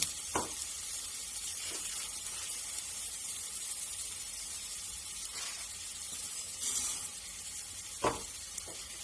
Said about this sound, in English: So the rice should toast with the other ingredients.